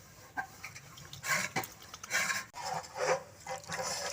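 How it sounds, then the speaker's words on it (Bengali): Water draining and splashing from freshly made chhana as it is washed and strained for nolen gur rosogolla, heard as close intermittent trickles and sloshes with soft rubbing and handling noises in a quiet kitchen. "ছানাটাকে ভালোভাবে ধুয়ে নেব ছানাটাকে ছেঁকে নিচ্ছি"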